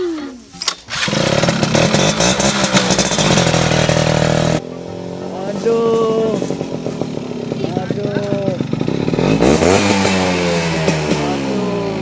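A new motorcycle engine revs hard and loud, a buzzing, rising and falling roar that cuts back briefly midway and then climbs again, with voices talking over it.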